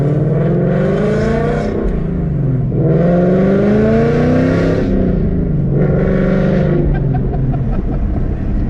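A Ford Mustang GT engine revs loudly and close, rising in pitch through gears, easing off between pulls, a continuous throaty roar.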